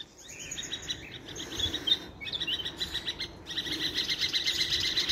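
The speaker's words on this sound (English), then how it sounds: "In fact, there's another bird up here, a black-faced cuckoo shrike, which doesn't usually engage in mobbing." Small birds, including a black-faced cuckoo-shrike, chirp and call in rapid, overlapping bursts while mobbing a grey butcherbird in a tree, with faint insect buzz in the background.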